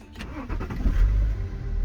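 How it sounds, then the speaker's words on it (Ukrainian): A cold BMW X5 E70 40d diesel engine cranks with a few quick turns, then catches and settles into a low, rough idle close by. "Стартуємо холодний двигун."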